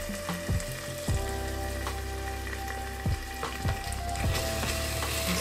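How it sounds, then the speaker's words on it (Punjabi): Masala spices fry in hot oil for a green chana curry, giving a loud constant sizzle broken by several sharp stirring scrapes, close up and without talk. "ਆਪਾਂ 3-4 ਮਿੰਟ ਚੰਗੀ ਤਰ੍ਹਾਂ ਮਸਾਲੇ ਨੂੰ ਭੁੰਨਣਾ"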